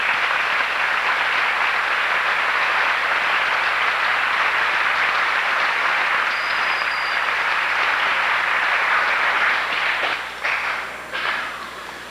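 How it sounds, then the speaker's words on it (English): Audience applause for two students at a 2001 high school class day ceremony, a loud, dense, continuous roar of clapping that thins and breaks up into scattered claps over the final seconds. "let's applaud them for this outstanding"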